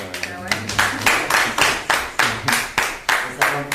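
About a dozen sharp hand claps in a steady, slightly quickening rhythm, close and loud in a room, with a voice heard faintly underneath.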